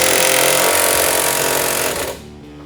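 Power tool working loose the upper control arm bolt on a Ford F150 truck, a loud continuous rattling hammer for about two seconds that then winds down and stops.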